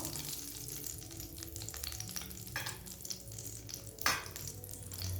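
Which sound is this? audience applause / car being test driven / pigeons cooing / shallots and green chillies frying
shallots and green chillies frying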